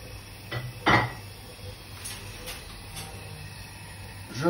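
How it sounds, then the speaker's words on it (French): Chopped onions and shallots are tipped into a risotto pan, making a couple of brief clattering impacts of utensil on metal amid quiet kitchen background, with one louder clack near the start. "je vais ajouter les oignons et les échalotes"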